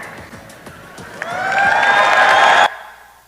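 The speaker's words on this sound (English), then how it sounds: "they're all cheering" A crowd cheers and whoops in a played-back recording, rising from faint chatter into a loud, sustained swell of excited voices that cuts off abruptly after about a second and a half.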